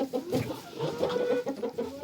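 Several chickens cluck close by in a busy, overlapping chatter of short, irregular calls.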